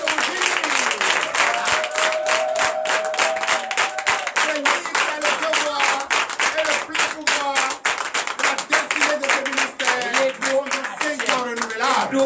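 A church congregation at a Sunday service in Benin claps loudly and rhythmically, sharp close hand claps over sung or called-out voices throughout.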